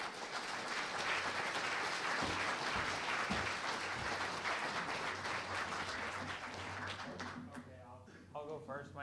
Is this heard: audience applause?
yes